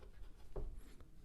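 A pen scratches quickly across paper while a Python program is written out by hand, a very short, faint burst of strokes with one firmer mark in the middle.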